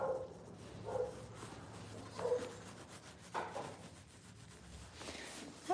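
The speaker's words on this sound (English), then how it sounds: "Hear our dog howling and barking." A dog barks in scattered bursts at a distance, with a few drawn-out howl-like calls mixed in over a rough, scraping background.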